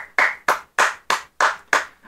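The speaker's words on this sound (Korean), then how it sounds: "자, 축하드린다는 말씀드리면서 다 같이 박수 부탁드리고요." Clapping follows congratulations to the champion of a quiz show. Seven sharp, evenly spaced claps land in a steady rhythm, close and loud, with no voices over them.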